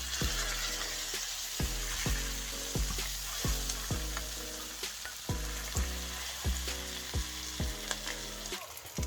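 Steady crackling sizzle of a rohu fish head frying in hot oil, loud and close, with a repeating low rhythmic thumping underneath throughout.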